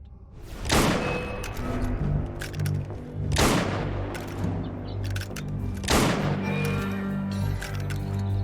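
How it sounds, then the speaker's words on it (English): Firearm shots in the game Assassin's Creed Unity, three loud booming gunshots spaced a few seconds apart, each with a rumbling tail over a low background soundscape. "Okay, now we can use a firearm here. Some nice headshots."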